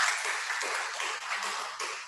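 A class audience at a free trial lesson applauds, a brief, fairly faint patter of hand clapping with a few stronger bursts and no talking over it.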